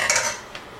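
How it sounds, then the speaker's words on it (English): Previously cooked pad Thai noodles dropped into a pan, a brief close clatter of metal and cookware followed by a faint second clink, no voices. "next I've got my pad Thai noodles previously cooked. Add them to the dish."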